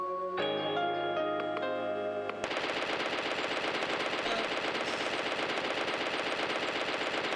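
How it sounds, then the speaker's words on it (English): A heavy machine gun in a video game fires a continuous rapid stream after a short burst of musical tones, the rattling rounds steady and loud with no talk. "It says a heavy machine gun."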